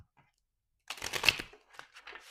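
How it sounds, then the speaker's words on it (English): A tarot card deck is riffle shuffled by hand. A quick, crisp flurry of fluttering card clicks is followed by a few lighter taps as the cards settle, close and fairly quiet. "So I've lost the ability to shuffle. Let's take it back to the old school. Let's rifle."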